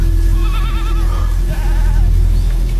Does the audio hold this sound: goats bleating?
yes